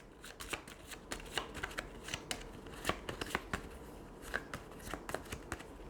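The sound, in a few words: shuffling Terraforming Mars Automa cards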